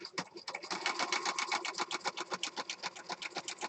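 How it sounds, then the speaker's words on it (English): A regular home sewing machine running a zigzag stitch with standard needle and thread, giving a fast, steady mechanical rattle of evenly spaced needle strokes, close and continuous, with no talk over it. "I'm using a regular needle, regular thread, regular sewing machine."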